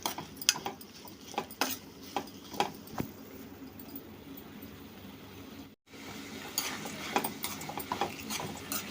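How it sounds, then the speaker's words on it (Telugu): Broad bean and tomato curry is stirred in a pan, giving a string of scraping and clinking spoon strokes against the metal at close range. The strokes are irregular, with a brief silent gap partway through, and no talking. "ఇప్పుడు వీటన్నిటిని ఒకసారి కలిపేసుకుందాం అండి"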